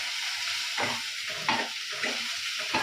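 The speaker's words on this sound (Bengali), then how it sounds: "এর মধ্যে আমি তেলের মধ্যে আমি রসুনটা দিয়ে দেবো" Ground garlic spits in hot oil with a bright sizzle that surges in rhythmic bursts as it is stirred, close and with no talking.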